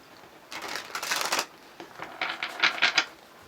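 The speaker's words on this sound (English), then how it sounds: "We're going to get 2 more shuffles." Tarot cards being shuffled by hand, two crisp riffling bursts of papery flutter separated by a short pause, close and fairly quiet with no talking.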